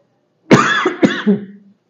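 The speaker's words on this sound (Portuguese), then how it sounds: "perdão aí pela tosse" A man coughs close to the mic in two or three harsh, rough bursts, followed by a brief throaty rasp, and then the room falls silent.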